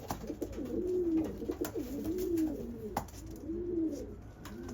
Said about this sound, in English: This is a Huskin Van Reel that Eric from Loft brought me to fly for him